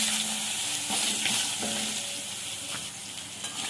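Mixed vegetables drop into hot mustard oil tempered with dry chilli and five-spice, frying in a close, steady sizzle broken by a few scraping stirs.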